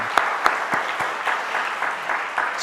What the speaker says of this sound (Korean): 하나님께 영광의 박수를 돌리겠습니다.